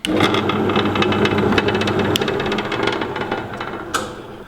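A grinding and buffing machine fitted with Scotch-Brite wheels runs up loud and close, a steady mechanical whir with rattling and a few sharp knocks, slowly fading toward the end with no talking.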